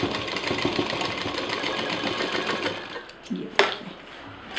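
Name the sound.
sewing machine stitching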